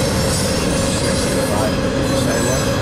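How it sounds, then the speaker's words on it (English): Freight train boxcars roll by close up in a loud, continuous rumble, with a steady metallic rolling roar and a hint of wheel squeal throughout. "Boxcars."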